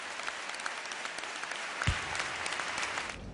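A crowd at a ceremony honouring Juan Carlos gives a sustained ovation, a thick continuous roar of clapping with a brief thump near the middle, heard at some distance.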